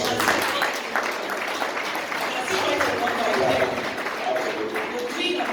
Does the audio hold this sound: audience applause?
yes